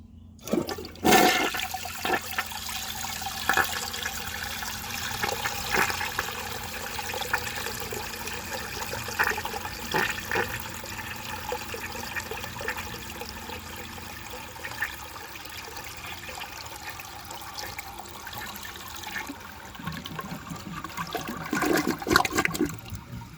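A 1982 American Standard Plebe toilet with a clogged siphon jet flushes with a long, rushing gurgle of water that churns steadily, then surges louder again near the end.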